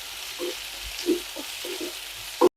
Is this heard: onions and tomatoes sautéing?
yes